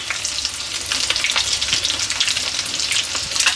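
Eggs fry in oil with green chillies for an egg pepper fry, giving a loud, dense, continuous sizzle and crackle close by, with no talk.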